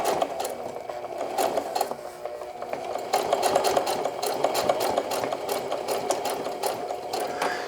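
A sewing machine stitches and back tacks to finish a denim jeans hem, running steadily with a loud, close, rapid mechanical rattle and no talking.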